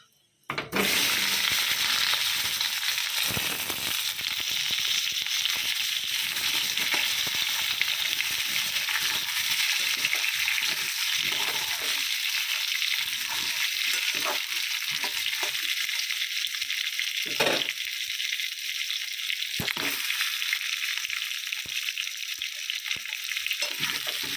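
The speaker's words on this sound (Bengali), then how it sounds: "আলুটা ভেজে নেব।" Potatoes frying in a pan with five-spice seeds and chilli, after paneer, a steady loud sizzle running throughout with occasional stirring scrapes and no talk.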